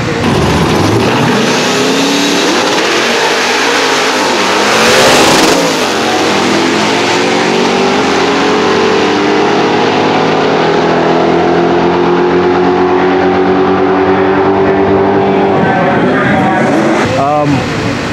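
Cobra sports car engine revving hard on a dyno, loud and close, with a sustained rising roar that climbs in pitch for many seconds, then falls off and surges again near the end.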